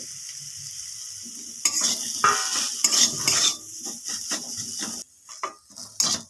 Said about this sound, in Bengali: আমি আদাটা দিয়ে একটুখানি খালি নেড়ে চেড়ে নিয়েছি